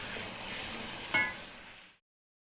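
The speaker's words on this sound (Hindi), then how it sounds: "मज़ीद 2 से 3 मिनट भूनेंगे इसको।" An aloo mattar pulao mixture fries in a pot with a steady soft sizzle and one brief stirring scrape, then cuts to silence, with no talking.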